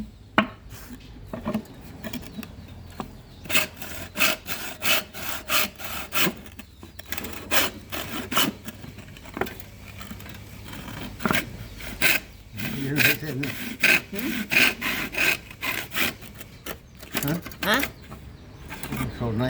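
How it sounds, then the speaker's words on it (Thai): A hand saw cuts through bamboo being prepared for strips to weave a basket base. Rhythmic bursts of rasping back-and-forth strokes come close and loud, with pauses between them, while people talk nearby. "เลื่อยเอา แข็งอยู่นั่นน่ะ"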